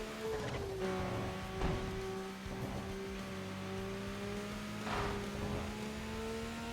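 A 1,100 horsepower kit car engine in a racing video game hums and whines with steady, sustained tones that shift pitch slightly as it revs, smooth and continuous with no talk.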